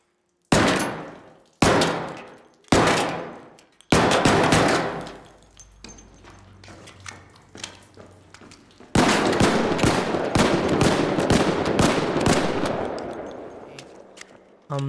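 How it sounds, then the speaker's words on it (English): Gunfire in the video game Arc Raiders: several loud single shots with ringing decay, then a sustained burst of rapid automatic fire that tails off. "it feels amazing to shoot, especially with the sound design in this game."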